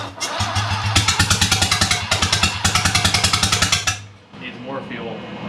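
Aircraft rotary engine cranking and firing on the ground, loud rapid rhythmic pulsing chugs for several seconds before cutting out, followed by quieter sputtering and background voices.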